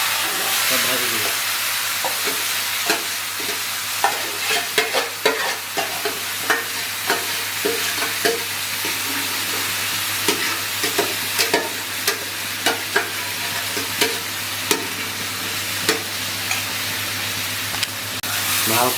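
Marinated chicken fries in butter in a pan for butter chicken, a constant loud sizzle broken by regular scraping knocks of a spoon stirring, with no talking.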